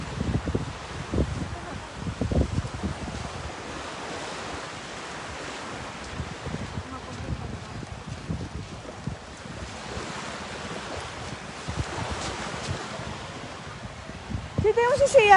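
Sea waves at a seaside wash in a steady broad roar, with wind buffeting the microphone and a few louder surges, and a voice speaks over it.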